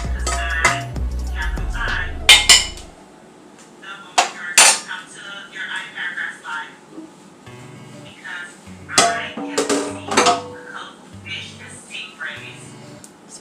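Meat dumped onto drained pasta in a pot, giving several clanks and scrapes of a utensil on metal among steady kitchen noise, with someone talking over much of it.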